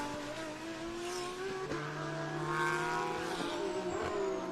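Race cars at VIR come into turn 1 at a distance, their engines blending into a steady droning roar with shifting pitch, fairly faint with no nearby voices.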